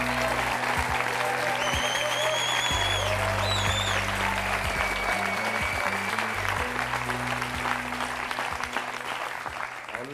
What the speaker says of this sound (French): Je vous demande de l'applaudir très chaleureusement et de l'encourager.